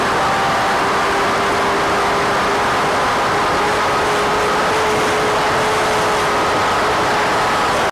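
A Kawasaki Ninja H2R motorcycle running on race fuel, a loud, sustained engine drone holding a steady tone across the whole stretch, heavy and unbroken with no talk.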